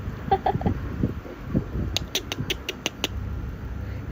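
Chickens cluck and mutter close by, followed by a quick run of sharp, high squawks from a rooster or hen.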